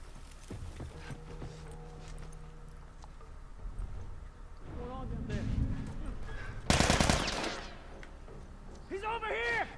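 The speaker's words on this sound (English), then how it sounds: "I don't really like this gun. It's taking way too many bullets to kill them." Gunfire in The Last of Us, repeated shots breaking out in several bursts amid background game sounds, with a dense, loud cluster of rapid fire near the middle and a voice talking at points.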